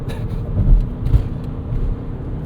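A 2024 Toyota Grand Highlander pulls onto the road at half throttle, and a steady low engine and road rumble swells slightly inside the cabin. No one speaks.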